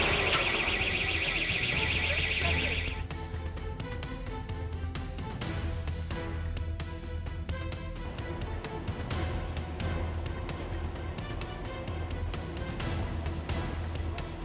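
An alarm sounds during an attempted ATM theft as a steady, piercing electronic tone for about three seconds. A loud, rhythmic music bed runs under it and continues after the alarm stops.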